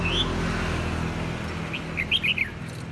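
A competition red-whiskered bulbul gives a few quick, bright chirps near the end, close and clear over a steady low background hum.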